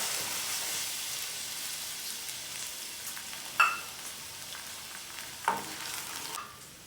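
Milk goes into melted ghee in a pan for badam halwa, giving a continuous soft sizzle and bubbling with two sharp clinks of a utensil against the pan.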